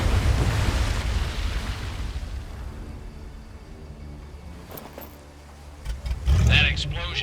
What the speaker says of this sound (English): That explosion got the attention of all the German patrols in the area.